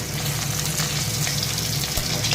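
Close, continuous sizzling of fish in hot oil in a pan, for a black cumin curry, with bubbling and spitting running evenly throughout and a brief soft knock near the end.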